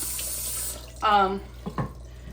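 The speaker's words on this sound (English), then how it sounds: "the first thing you do is rinse off your celery, because sometimes there's dirt on it." Kitchen tap water runs over celery being rinsed, a hissing stream that cuts off, followed by brief splashes and handling sounds at the sink, close and fairly quiet.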